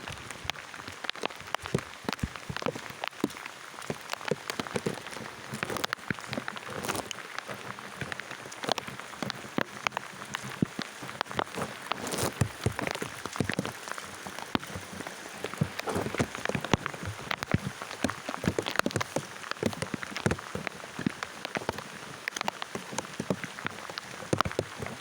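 Rain falls steadily outdoors in the fields, a dense even patter of drops close by with no other sound.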